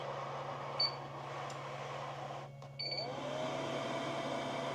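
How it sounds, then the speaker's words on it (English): A Roland BN2-20A printer/cutter detects loaded media: a steady low mechanical hum, then two short high electronic beeps about two seconds apart. The sounds are faint and no one speaks. "That's the machine recognizing that the material is loaded."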